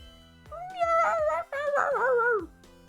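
Two drawn-out, wavering meows from a cat in the video game Ghost Trick, rising then bending down, set over soft tonal background music.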